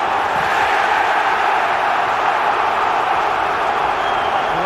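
A packed football stadium crowd at a Manchester United versus Newcastle United match roars loudly and steadily, a dense unbroken wall of noise throughout.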